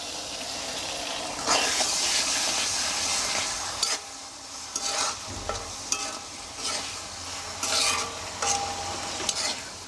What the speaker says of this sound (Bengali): টক দইটাকে দিয়ে আর একটু ভালো করে মিশিয়ে নেব পেঁয়াজের সাথে